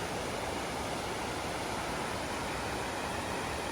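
Steady broadband rushing of a river flowing over natural rock water slides and pools in the North Cascades, Washington, constant and unbroken, with no voices over it.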